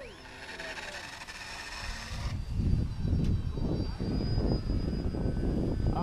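Engine of an RC model airplane whining at a steady pitch that starts in the distance and then comes closer, with pulsing roars as it passes, while people talk over it.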